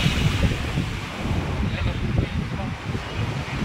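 Sea waves wash continuously at Marine Drive beach at night, heavily buffeted by wind noise on the microphone, a dense, steady roar with people talking faintly underneath.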